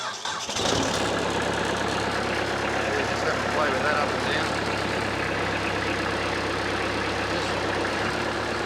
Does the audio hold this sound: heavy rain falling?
no